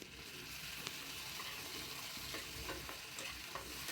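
Onion, green chilli and tomato fry in oil with cumin, giving a steady, close sizzle with a few light stirring scrapes throughout and no voices.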